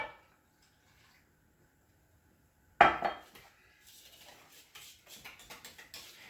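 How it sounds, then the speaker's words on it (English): Milk stirred into cobbler batter in a bowl: after a quiet stretch comes a sharp clink against the bowl, then faint, rhythmic scraping and tapping of a whisk. "I'm going to take a cup of milk and mix that in there"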